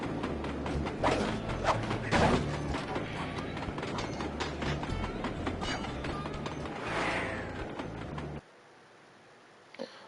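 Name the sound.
Iron Horse train approaching in Sly Cooper video game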